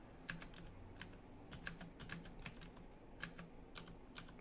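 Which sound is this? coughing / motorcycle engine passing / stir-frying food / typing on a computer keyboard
typing on a computer keyboard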